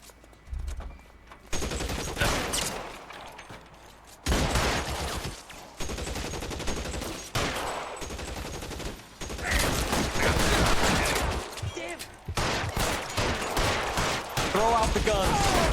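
Gunshots crack in an L.A. Noire video game shootout, coming in loud, repeated bursts separated by short pauses, with voices talking between the volleys.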